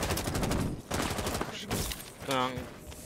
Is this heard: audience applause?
no